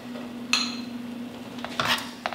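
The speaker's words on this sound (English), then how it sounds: "I'm gonna go ahead and add this Gruyere cheese to this now since it's just about finished and I'm gonna stir that in." Gruyere cheese is stirred into a stout-braised short rib sauce in a pot. A spoon scrapes and clinks sharply against the metal a few times over a faint steady hum, with no talking.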